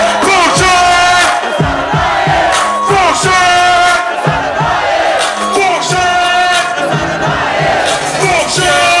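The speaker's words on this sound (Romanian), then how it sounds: "toată lumea țipă, se sare de aia!" A large New Year's Eve concert crowd in Piata Unirii, Bucharest, screams and shouts continuously and loudly over pounding live music, the roar of many voices sustained throughout without pause.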